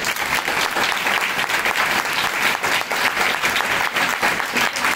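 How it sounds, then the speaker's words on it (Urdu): Loud, sustained applause from a church congregation during a sermon, a dense and constant roar of many hands clapping together close to the microphone. "آئیے خداوند کے لیے زوردار تالیاں بجائیں گے"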